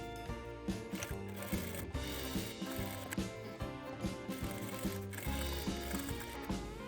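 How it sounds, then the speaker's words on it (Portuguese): A sewing machine stitches two strips of fabric together in quick bursts of rapid mechanical whirring and clatter, pausing briefly between runs, close and clear with no voices. "vou passar a costura aqui, uma costura aqui e uma costura reta aqui com a distância de um pé de máquina"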